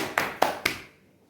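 Hands clap three times in a quick, even rhythm during a children's balance and health exercise lesson, each clap sharp and close, then fading to quiet.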